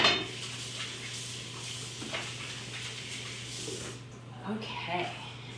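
Raw steak pieces moved into a bowl for a snow pea stir fry, soft clinks and scrapes of dishes and utensils, faint and close over a steady low hum.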